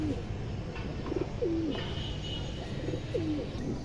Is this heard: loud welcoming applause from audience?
no